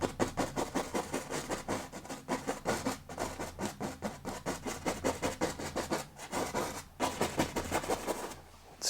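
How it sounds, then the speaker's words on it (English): A paintbrush scrubbing sap green oil paint onto canvas in a mixed media landscape painting, making rapid, rhythmic scratchy strokes that repeat steadily and close up, with a brief pause near the end. "Scrub it in there really nicely."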